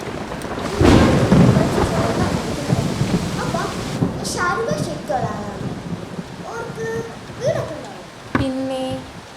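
Heavy night rain with a loud crack and rumble of thunder near the start, then steady rainfall continuing under people talking.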